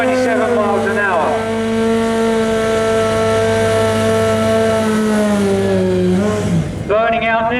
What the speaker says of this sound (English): Burning out now, we've got Phil Steele, 387 on the Kawasaki ZX12R